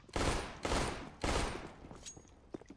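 Three loud, close bursts of automatic weapon fire ring out in Counter-Strike Global Offensive, each burst a rapid rattle that fades away. Sparse, quieter clicks and shots follow.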